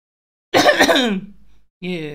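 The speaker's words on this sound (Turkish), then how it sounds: "kusura bakmayın ya öksürük tutuyor" A person clears their throat with a harsh, rasping cough, followed by a brief voiced grunt, close and fairly loud.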